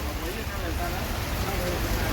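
Rain falling steadily over a busy produce market in Panvel during heavy monsoon downpour, a continuous dense hiss with no pauses and no voices.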